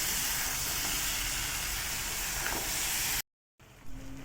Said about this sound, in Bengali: দিয়ে দিলাম বড়িগুলো দিয়ে একটু কষিয়ে নিচ্ছি